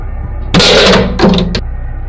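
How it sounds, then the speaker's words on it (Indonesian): A warehouse door thuds shut with a heavy bang, followed by a second clunk and rattle as it settles, close and loud. "Kemudian dia menutup pintu itu kembali sendirian."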